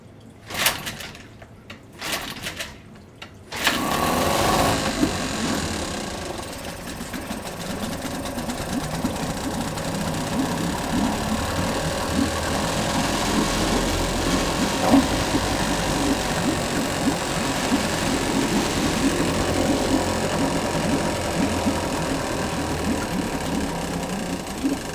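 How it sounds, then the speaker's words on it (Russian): A Yamaha 5 outboard boat motor is started after a few handling clicks and then runs continuously at a fast, buzzy idle close by, steady and unbroken for the rest of the clip. "И можно запускать мотор."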